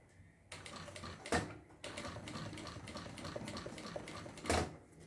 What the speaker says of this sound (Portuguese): eu vou usar aqui meio pé de máquina pra fazer essa costura